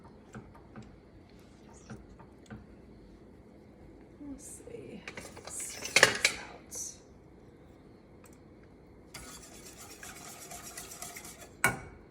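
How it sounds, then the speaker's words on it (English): A spoon scrapes and clinks against a pot while pecan pie cake filling with a dash of salt is stirred on the heat, in soft scattered taps and louder rubbing bursts, with a voice talking at times. "we're going to stir this up, and we want to bring it to a boil"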